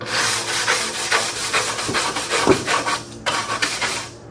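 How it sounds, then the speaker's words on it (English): Car sill plates from an old Mopar scrubbed with degreaser while screwed to a sawhorse, a close, loud rhythmic rasping brush stroke repeating back and forth, alone without talk. "So we're doing the degreaser. Scrub it."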